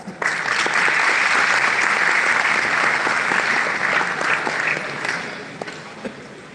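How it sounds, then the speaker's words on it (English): Keynote audience at a young entrepreneurs summit bursts into sustained applause, loud and dense from the start, holding steady for about five seconds before thinning into scattered claps. "in your burst of applause"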